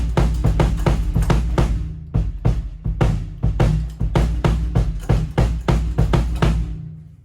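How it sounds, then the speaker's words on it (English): Muffled bass drum with a muffler inside, giving a dry kick with little ring: a steady run of short, punchy thumps played alone at close range. "it gets out the ring and it becomes a dry bass drum sound"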